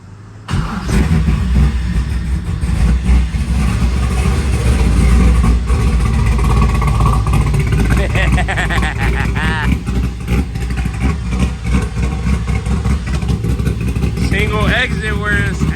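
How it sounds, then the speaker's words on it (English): A car with a blown B20V engine, running through an exhaust with resonator and muffler, starts and revs in loud, rising and falling bursts close by, while people talk over it. "it's time to hear the exhaust"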